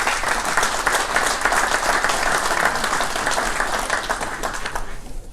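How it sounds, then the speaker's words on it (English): Sustained audience applause at an awards ceremony, a dense, steady wash of many hands clapping throughout before tapering off at the very end. "Give these guys a round of applause."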